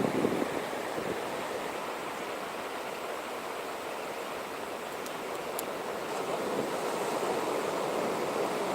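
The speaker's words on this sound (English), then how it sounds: "You can hear the ocean." Ocean surf rolling onto Cocoa Beach at night, a steady broadband wash of breaking waves with gentle swells in loudness, carrying on alone with no talk.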